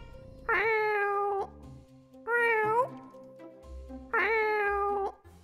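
Cartoon cats in the puzzle game The Cat Machine meow three times, each a clear, drawn-out cry with a pause between, over quiet background game sounds.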